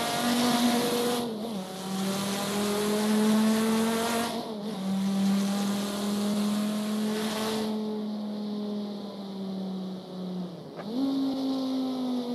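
A race car engine in a racing video game drones loudly and continuously, its pitch rising and dropping through gear shifts, with tire squeal mixed in as it corners.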